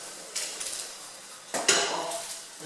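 Steamed asparagus spears being lifted off a steamer, heard as a few close clinks and clatters of metal pot and utensils against a quiet background.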